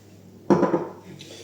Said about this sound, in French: Je mélange ça doucement.